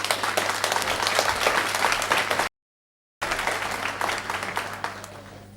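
Model United Nations general assembly delegates applauding a passed resolution, a lively burst of clapping from a roomful of people that cuts out briefly, resumes, then thins toward the end over a steady low hum.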